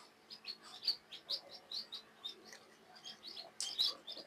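Newly hatched chicken chicks peep in a hatching setup, with rapid, high, faint repeated chirps overlapping one another and one louder burst near the end.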